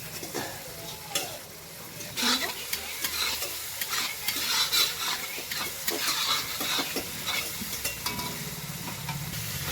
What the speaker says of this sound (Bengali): আদাটাও কষে নেবো পেঁয়াজ রসুনের সাথে।